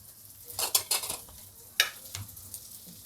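Oil and batter on a hot pan for foxtail millet dosa, giving short bursts of sizzling and scraping clatter, a few sharp crackles in quick succession then a quieter hiss, close by with no talking.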